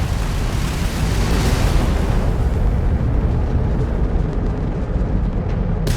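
Crimson Fleet ship weapons in Starfield space combat: continuous rumbling explosions and booming blasts, loud and dense, with no talking over them.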